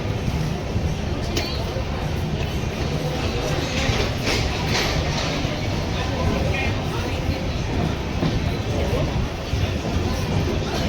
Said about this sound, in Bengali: মোরেনা জাংশন আমাদের ট্রেন ছাড়লো